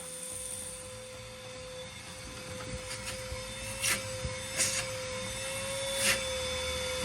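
A Ryobi 18V ONE+ shop vac hums with a steady motor whine that drifts slightly in pitch as it loses speed, with a few knocks and bumps from the hose, faint and alone.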